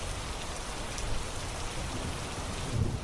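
Steady rain sound effect, a dense, even hiss of falling drops that stays fairly loud and unbroken throughout, with no voices.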